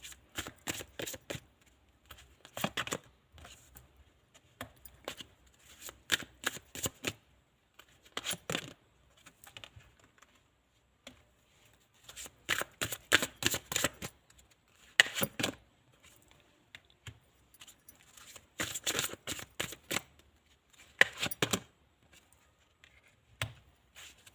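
Tarot cards are shuffled by hand in repeated bursts of crisp riffling and flicking, close and fairly quiet, separated by short pauses and with no talk.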